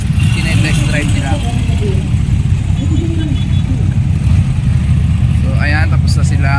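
Motorcycles being test driven nearby give a steady low engine rumble throughout, mostly under constant talking close by.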